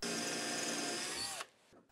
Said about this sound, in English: and bore the pilot hole.